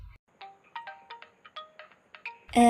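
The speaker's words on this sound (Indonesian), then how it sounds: "Ada yang telepon nih." Cartoon phone ringtone sounding an incoming call in a school-themed animated film: a repeating series of short bright electronic tones with a steady rhythm, clear and alone, ending in a louder burst.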